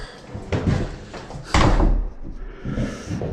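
A split jamb interior door being hung is swung and shifted while it is checked for rack, giving wooden knocks and rubbing scrapes, with a firm thud partway through, close by and with no talking.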